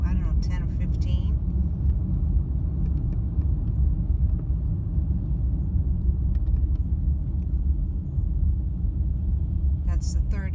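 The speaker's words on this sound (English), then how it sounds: "That's the third vehicle." A car passes on a quiet rural road, its low rumble rising and falling steadily throughout at moderate distance, with brief faint voices at the start and end.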